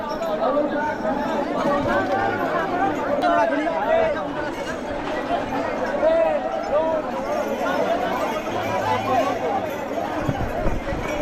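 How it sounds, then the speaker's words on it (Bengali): A large, dense crowd of Tarakeswar pilgrims at a river ghat on a Shravan Monday: continuous close chatter and many overlapping voices with scattered footsteps and movement, and talk running throughout. "এই সোমবারে মনে হচ্ছে প্রচণ্ড পরিমাণে ভিড় হয়েছে"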